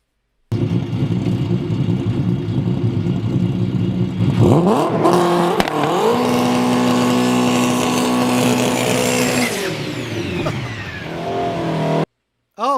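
A car engine heard through a played-back recording, revving hard at wide open throttle with rising pitch sweeps broken by quick shifts. It then settles into a steady drone before cutting off, loud and close, with brief talk near the end.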